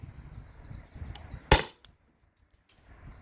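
A Salt Supply S2 gun running on an HPA tank fires a 7.2 gram aluminum ball, one sharp, loud crack followed by a small knock and a faint later tap, with quiet low rumble before it.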